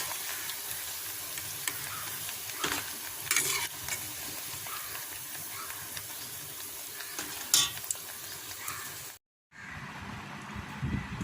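Chekkalu, crisp rice crackers made with pearl millet and wheat flour, frying in hot oil, giving a steady close sizzle with occasional stirring scrapes, then a brief drop to silence before the bubbling resumes.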